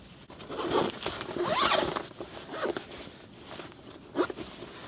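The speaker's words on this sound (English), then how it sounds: "and zip it all back up." A Tesla car jack kit bag is zipped shut up close, with a few drawn zipper strokes and light fabric rustling between them, and no voices.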